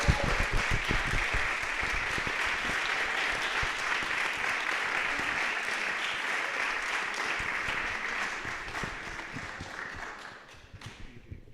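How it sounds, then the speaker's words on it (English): A conference crowd at Alpaca Conference 2025 gives sustained, dense applause for Pasta Gang, loud and even for about ten seconds before tapering to a few scattered claps, with faint voices underneath. "another round of applause for Pasta Gang"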